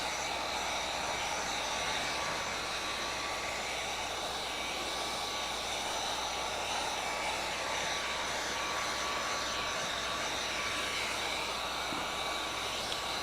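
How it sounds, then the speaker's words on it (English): A heat gun set to high blows a steady, unbroken roar and hiss while window tint is applied to a 2020 Kia Optima, loud and close throughout with no talking. "Keep your heat gun on high."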